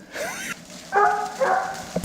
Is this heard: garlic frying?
no